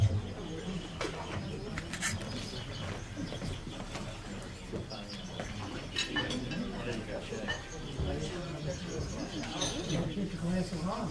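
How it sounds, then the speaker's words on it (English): A vision screening camera for children gives off electronic bird-chirp and cooing tones, heard mid-distance among clattering dishes and talking voices in a room. "a noise that sounds like birds chirping, and it gives off a light"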